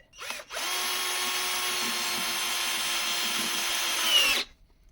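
A Ronix cordless drill-driver spins up in drill mode after a short click, holding a steady high motor whine for about four seconds before cutting off abruptly.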